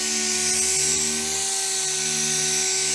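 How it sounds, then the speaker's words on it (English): A pneumatic air sander works steadily on the lacquer of a BMW E30 325 Sport. It gives a continuous high-pitched whine with a steady tonal hum and holds a constant, fairly loud level throughout. No one speaks. "Now, as we're sanding here,"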